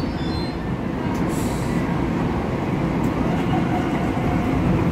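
A Long Island Rail Road M7 electric train rumbles steadily at Flushing Main Street station, with a dense, constant low roar of wheels and motors and a faint high squeal early on.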